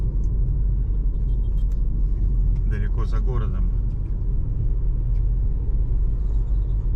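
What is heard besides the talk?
car driving on a road outside the city in Cambodia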